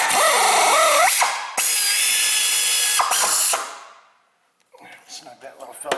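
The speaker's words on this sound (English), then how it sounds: "get my air ratchet in there" Air ratchet snugging up a bolt on the side of a transmission during a rear-wheel-drive clutch replacement, two loud bursts of rapid buzzing ratcheting, then quiet handling noises.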